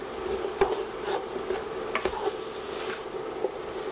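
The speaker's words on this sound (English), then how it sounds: "I'm going to give it a good stir." Flour-coated vegetables for a chicken pot pie are stirred in a pan: a soft sizzle with scraping, rasping spoon strokes and a few light knocks against the pan, close and steady, with a low hum underneath.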